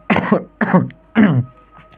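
Three harsh coughs in quick succession, close and loud, with short pauses between them and no talking.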